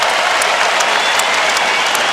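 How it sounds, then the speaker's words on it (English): Basketball arena crowd applauding steadily during a Golden State Warriors versus San Antonio Spurs game, a dense, loud wash of clapping with no gaps across the whole stretch. "the round of applause for the MVP"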